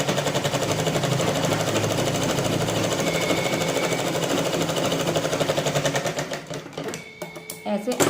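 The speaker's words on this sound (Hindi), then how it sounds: "अब मैं यहाँ पे सिलाई लगा लूँगी इस तरह से" A sewing machine stitches a hook strip onto a blouse with a rapid, continuous mechanical chatter, close and loud, then slows and stops near the end with a few clicks.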